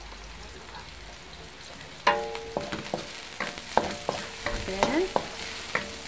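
Onion and garlic sauté in a pan for chicken minudo, a steady soft sizzle broken by sharp clinks and scrapes of a utensil stirring against the pan, close up, with a single spoken word near the start.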